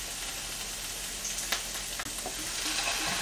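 Soy sauce hitting hot garlic and scallion oil in a pan for soy sauce egg fried rice gives a steady, close sizzle throughout, with a couple of brief sharper pops.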